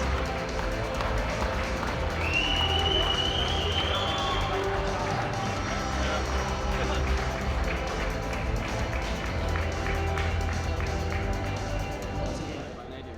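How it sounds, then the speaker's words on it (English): Crowd applause and cheering fill a powerlifting competition hall, a steady dense roar of clapping with a rising whistle-like call early on and voices mixed throughout. "A round of applause for the 105s."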